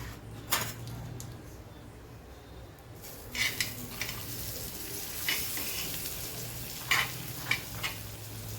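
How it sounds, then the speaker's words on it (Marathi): A frankie wrap roasting in butter on a pan over low heat, a soft steady sizzle with a few clinks and scrapes of a utensil against the pan, close and moderately quiet. "आता आपण ह्याला मंद आचेवर भाजून घ्यायला आहोत खरपूस"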